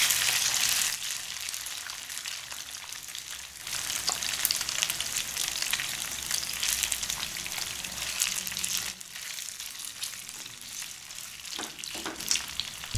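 Flipped chicken pieces, spread out in a single layer for ginger chicken, fry in hot oil with a loud, continuous hiss of sizzling and occasional crackles and stirring scrapes, steady from start to finish.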